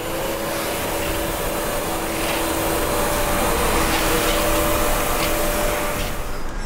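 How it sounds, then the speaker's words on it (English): A vacuum cleaner runs steadily nearby, a loud constant whine and hum with a slight shift in pitch as it moves, cutting off at the end. "like this vacuum cleaner"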